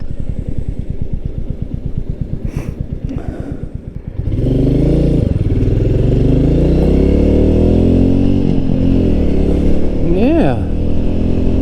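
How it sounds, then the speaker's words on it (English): A brand-new 2023 Royal Enfield Meteor 350 thumps at low revs, then its single-cylinder engine rises into a loud, steady drone at speed amid wind rush, with a rider's brief voice. "This is a brand new motorcycle."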